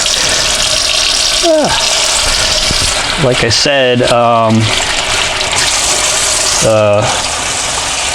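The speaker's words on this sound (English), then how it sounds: "just some pure water, and you can see it's rinsing away pretty nicely" Steady rushing hot water runs loudly throughout, flowing into a sink to rinse away printing ink after relief printing, while a voice speaks briefly over it.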